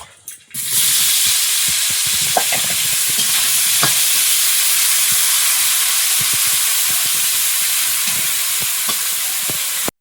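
Constant loud sizzling of raw banana pieces frying in hot oil in a pan, a bright hissing crackle with occasional faint clinks, no voices.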